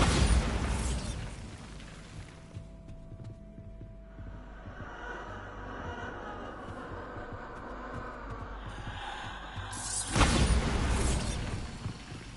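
Bombarda blasting spell in Hogwarts Legacy: a loud, roaring explosion opens, decays into rumbling, creaking debris, then a second powerful blast bursts near the end.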